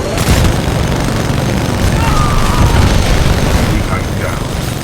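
Titan weapons firing and explosions booming in Titanfall 2 combat, loud rumbling blasts and mechanical clatter running throughout, with a voice briefly speaking over the fighting.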